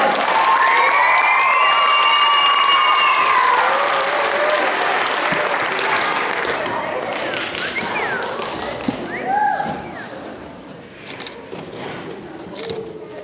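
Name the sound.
applause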